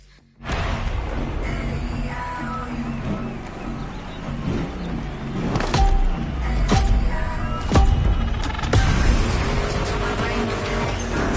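Muscle car engine in the racing game The Crew, a loud rumbling drone with revving swells and a few sharp knocks, mixed with a guitar-riff soundtrack.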